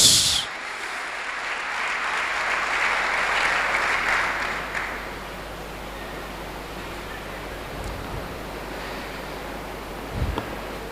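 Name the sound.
congregation applauding loudly for Jesus Christ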